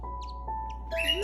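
Baby cockatiels give faint, thin chirps and a short rising squawk. The calls are brief, scattered and quiet over a low, steady background hum.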